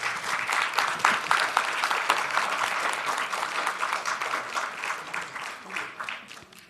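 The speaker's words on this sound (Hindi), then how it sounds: "जोरदार तालियों से स्वागत करिए।" Enthusiastic audience clapping welcomes a poet at a literature festival recitation, dense and loud at first, then gradually thinning and fading over several seconds.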